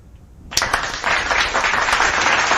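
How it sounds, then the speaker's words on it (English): Applause starts abruptly after a brief quiet moment and continues steadily, a dense burst of clapping from several hands, close and fairly loud. "Big hand of applause for everyone in the chat"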